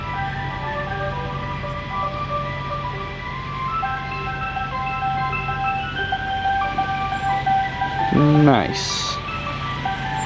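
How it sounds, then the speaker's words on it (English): Ice cream van chime playing a repeating melody in the background, steady and moderately loud, with a brief chirp near the end; people talk briefly over it. "Is there an ice cream truck? Yeah."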